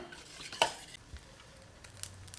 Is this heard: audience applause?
no